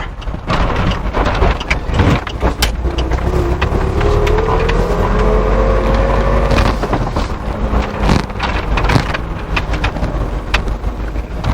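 A Triumph TR7 sports car drives along, its engine note rising and falling over loud, steady road and wind rumble, with a few sharp bumps and knocks throughout.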